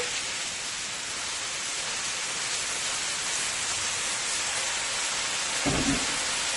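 Bora frying in a pan with shrimp, Guyanese style, a dense constant sizzle like heavy rain, loud and close, with a brief low thump near the end.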